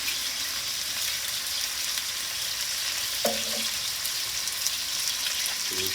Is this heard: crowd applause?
no